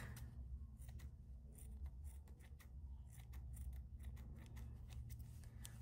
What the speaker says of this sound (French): Et je coupe mon fil.